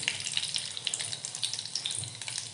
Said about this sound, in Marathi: जिरे घालूया